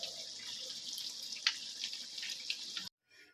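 Water is poured into a dish of ground mustard paste and green chillies, making a steady, close splashing hiss that runs for about three seconds and then stops abruptly.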